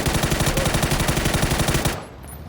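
Rapid automatic gunfire in the video game PUBG, a loud close stream of evenly spaced shots for about two seconds before cutting off abruptly.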